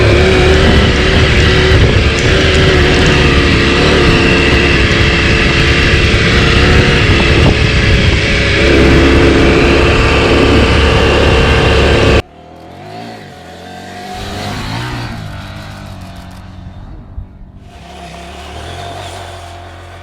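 KTM 790 Adventure R motorcycle engine on an off-road ride: a loud, close, steady engine drone with strong harmonics for about twelve seconds, then a sudden drop to a much quieter, rougher rumble that swells and fades.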